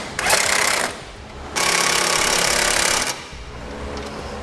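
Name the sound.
socket wrench tightening base plate bolts, 19 mm socket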